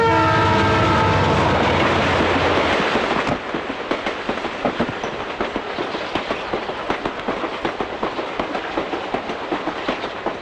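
A train rolls along with steady rhythmic rattling and clatter, preceded by a loud sustained horn-like tone that cuts off after a few seconds.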